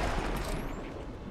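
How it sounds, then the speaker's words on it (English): A floor blown out by an explosion in the video game XCOM, a loud, dense blast rumbling broadband from the first instant and staying heavy for over a second with no talk. "Blow the floor out"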